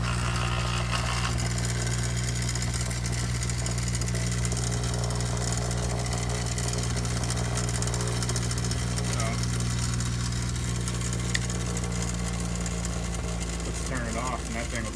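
A Menards Performax bench grinder hums loudly and continuously at full speed, a steady motor drone with slight wobble from an out-of-true wheel, close and constant throughout.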